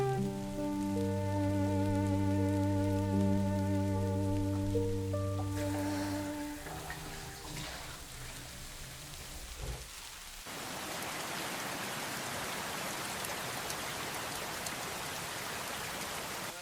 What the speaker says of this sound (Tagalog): Lakas pa din ang ulan.